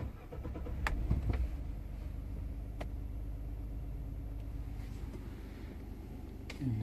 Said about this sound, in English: Now, let's turn the truck on.